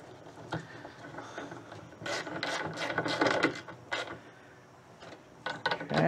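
Tightening screws on a VW Beetle window regulator gives a run of close mechanical ratcheting and creaking, in irregular bursts of clicks and scraping over about six seconds with no talk.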